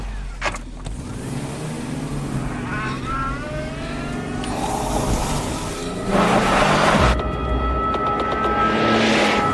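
A car revs and accelerates away, its engine note climbing in rising sweeps, louder toward the end under a steady broadband roar.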